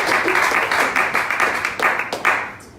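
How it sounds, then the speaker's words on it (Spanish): A church congregation applauds during a sermon, a steady wash of many hands clapping at moderate volume, slightly distant and lasting a few seconds. "¿Cuántos aplauden al Señor?"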